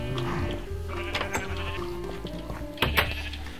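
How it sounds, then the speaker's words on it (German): Blocky sheep in Minecraft bleat in short repeated calls over a steady game background, with a sharper louder bleat near the end. "Ja, ich bin hier gerade bei den Schafen."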